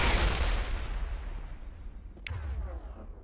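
A heavy explosion in the video game Mass Effect on Insanity difficulty: a loud, booming blast with a long rolling rumble that fades away, then a sharp crack near the end.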